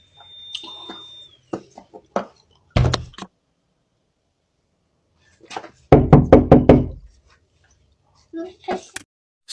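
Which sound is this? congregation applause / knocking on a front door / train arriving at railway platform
knocking on a front door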